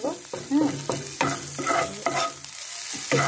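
Tomatoes fry and get stirred in a pan for chicken Maggi, a close sizzle broken by repeated scraping strokes of a spoon at an uneven rhythm.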